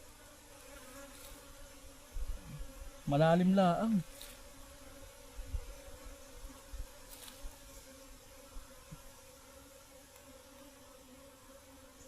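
Bees droning steadily throughout a honey harvest, with a close, continuous hum and a brief burst of talk partway through.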